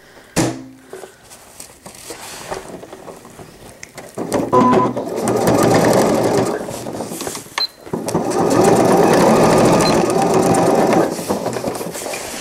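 A sewing machine stitches elastic onto a cloth all-in-one diaper, its motor whirring in two long, steady bursts with brief back-and-forth runs and a pause between, close and fairly loud with no talk.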